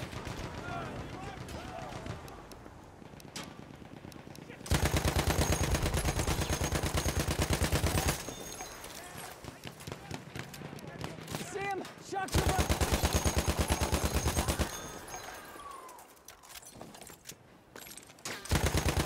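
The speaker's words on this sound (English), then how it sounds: "Machine gun! One of theirs!" Enemy machine gun in the Battlefield video game on the Oxicon map, long loud bursts of rapid automatic fire repeating across the scene, with shouting voices and distant battle noise in the gaps.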